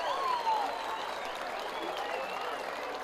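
A baseball crowd applauds and cheers after a diving catch at shortstop, a steady wash of clapping and crowd noise over about three seconds, with voices talking over it.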